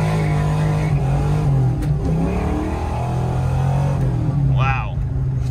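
A car on a nitrous hit in 19-degree cold weather roars with a loud, sustained engine drone, rising slightly under load, while someone talks over it.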